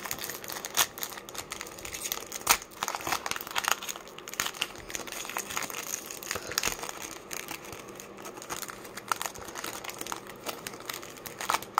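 Topps Chrome card pack wrappers crinkle and crumple steadily and up close, dense bursts of crackling foil plastic running throughout with no talking.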